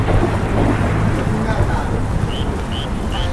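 Rain pours with rumbles of thunder during a rainy group motorcycle ride toward Ayutthaya, Thailand: a steady, loud broadband hiss over low rumbling, with a few faint high chirps near the end.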